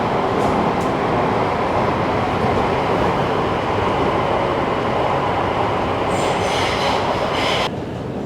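Kuala Lumpur MRT metro train rolling along: a loud, steady roar of wheels on rail with faint squealing and clatter near the end, and no voices.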